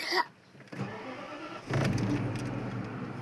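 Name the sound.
BMW car engine starting after starter motor repair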